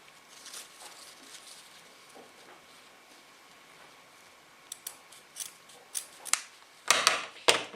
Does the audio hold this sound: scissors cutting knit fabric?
yes